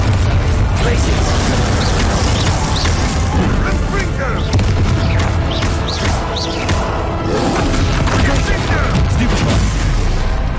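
Bombarda and Confringo spell blasts in Hogwarts Legacy, a dense run of loud booming explosions and sharp pops in quick succession, continuous and close throughout, with a voice briefly heard among the blasts.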